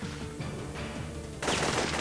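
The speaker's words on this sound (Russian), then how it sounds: "О, этот выстрел будет роковым." Gunfire from a rifle fitted with a night-vision scope in a Dendy console game, sharp electronic shots repeating in quick bursts, then a louder, harsher blast near the end.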